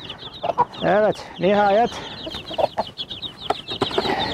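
A hen calls her chicks on soil while other chickens cluck nearby. Close, loud clucks and calls come in several bursts, with high chick peeps running throughout and a person speaking briefly.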